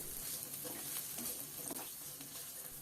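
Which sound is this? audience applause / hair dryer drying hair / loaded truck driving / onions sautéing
onions sautéing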